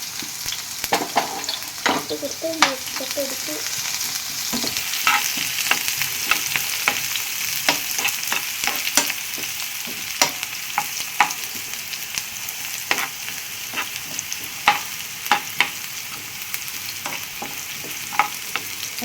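Crushed garlic sizzling in hot oil in a pan while being stirred, with a continuous bright crackle and frequent sharp spatula clicks and scrapes, close and fairly loud, no voices.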